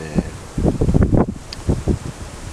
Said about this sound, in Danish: Det er blæst noget op, og det har blæst noget mere, end jeg havde regnet med